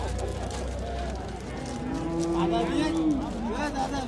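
A cow moos at a busy livestock market, one drawn-out low call rising through the middle under a murmuring crowd, with people talking nearby.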